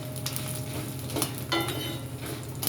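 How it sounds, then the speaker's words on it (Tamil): Dried red chillies frying in a pan over a low flame for Vengaya sambar, giving a steady soft sizzle with occasional light stirring scrapes, close and continuous. "நல்லா வறுக்கறது ஆயிடுச்சு."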